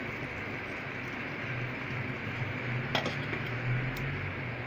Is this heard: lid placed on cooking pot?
yes